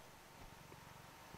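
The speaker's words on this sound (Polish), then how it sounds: "czy kamera wyłapuje jego mruczenie" A house cat purring quietly at close range, a faint, steady low rumble with soft rhythmic pulses beneath a hissy background, no talk.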